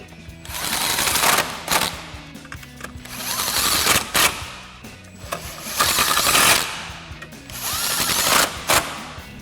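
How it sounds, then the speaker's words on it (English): Impact driver fitted with a 10 mm socket and extension runs four screws into a 2014-2018 Sierra 1500 headlight, several loud whirring bursts separated by short pauses, no talking. "10 mil socket and extension on our impact. Now we'll get our 4 upper screws in."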